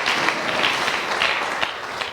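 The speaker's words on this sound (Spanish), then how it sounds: "Un aplauso para Él en esta mañana." A church congregation claps during a morning service, a short steady patter of applause in a reverberant room with faint voices underneath.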